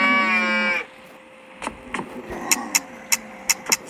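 A cow gives one sustained, loud moo that cuts off abruptly, followed by a quieter stretch of scattered clicks and knocks.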